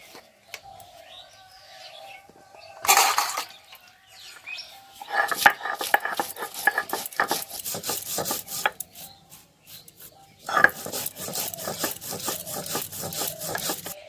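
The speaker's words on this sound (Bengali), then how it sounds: "আমি সরষেটা দিয়ে কাঁচা ঝাল দিয়ে বেটে নিচ্ছি, একটু লবণ দেব" Mustard seeds with green chili and salt are ground by hand for a Bengali eggplant dish, heard as close, irregular scraping and rubbing strokes in short bursts between quiet pauses, with faint background sounds.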